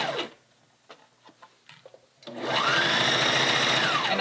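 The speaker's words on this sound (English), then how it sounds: "let's go sew that up" A sewing machine stitching a dress seam: a few light clicks and handling taps, then the motor starts and runs in a steady, loud, close whirring rattle to the end.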